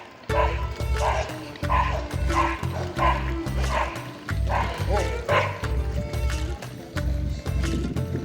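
Dogs bark and yip fiercely while fighting through a wire fence, a rapid run of loud close barks with whimpers mixed in, and a voice speaks over them.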